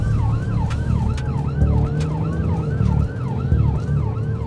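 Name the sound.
ambulance siren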